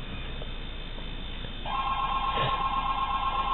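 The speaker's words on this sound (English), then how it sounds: "but my phone is now ringing." A phone rings from an incoming VoIP call placed over SIP from an iPod Touch, a steady electronic ring tone starting partway through and repeating close and clear over a quiet room hiss.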